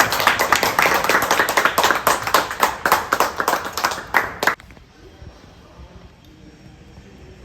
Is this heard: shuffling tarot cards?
no